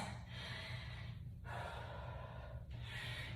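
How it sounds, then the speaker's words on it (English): Deep breathing during a metabolic strength workout, with three long, loud, airy breaths close to the listener, spaced about a second apart and not covered by talk. "Take some nice deep breaths."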